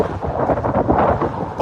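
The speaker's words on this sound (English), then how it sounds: "It's really windy." Wind buffets a microphone outdoors in a steady low rumble across the whole stretch, with no speech.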